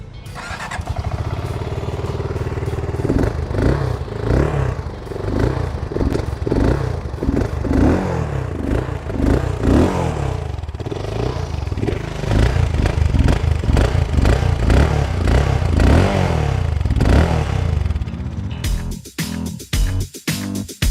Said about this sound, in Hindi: एक बार आपको इसका एग्जॉस्ट नोट भी सुनाते हैं। Let's hear that.